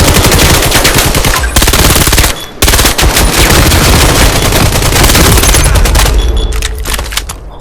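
Loud rapid automatic gunfire from a VR shooter game fires in dense bursts with a short break, then continues in quicker scattered shots that fade toward the end.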